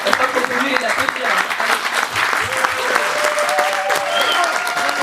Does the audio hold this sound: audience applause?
yes